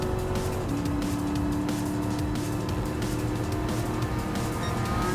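A Ferrari race car in the video game Gran Turismo Sport drives past, a loud continuous engine drone with a rising whine, steady throughout and without voices.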